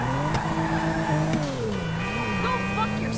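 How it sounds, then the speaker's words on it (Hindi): Engine of a car in GTA driven by Franklin on a mission for Martin, a steady droning note rising and falling in pitch as it picks up speed, loud and continuous throughout. "चलो फटाफट से स्पीड पकड़वाते हैं उस गाड़ी को"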